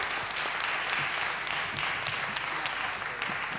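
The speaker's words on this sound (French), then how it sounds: "on vous applaudit encore une fois et on applaudit bien sûr les intervenants de la table ronde précédente" An audience applauds after a round table discussion, a steady, dense wash of clapping from a sizable crowd that continues evenly throughout.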